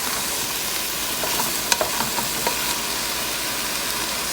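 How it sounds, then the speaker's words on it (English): Hard chopsuey vegetables are stirred and tossed in a hot pan with black pepper, giving a constant loud sizzle and frying hiss with a few scraping clicks of the utensil near the middle. "you have to mix them well, since these are still the first hard vegetable ingredients"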